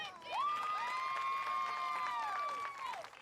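A crowd cheers for senior cheerleaders at a 2020 Gilmer vs Lindale high school football game, with one loud, sustained whooping cheer rising and holding over steady crowd noise for about three seconds.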